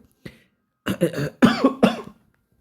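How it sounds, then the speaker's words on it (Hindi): A brief throat sound followed by three distinct coughs in quick succession, close and fairly loud, with silence around them. "सॉरी बुढ़ापा में खांसी हो सकता है"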